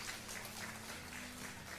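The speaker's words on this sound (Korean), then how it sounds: "우리 박수를 한번 환영해 주시기 바라겠습니다" A church congregation at Sunday worship claps together to welcome visiting guests, a soft, steady wash of applause heard from a distance with no voices on top.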